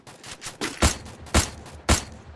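Gunfire in the Free Fire game: four sharp, evenly spaced shots ring out close and loud over quieter rattling in between.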